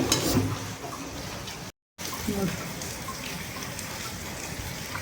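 Steady rain patters and hisses throughout, broken by a brief dropout of silence, with a faint voice murmuring early on.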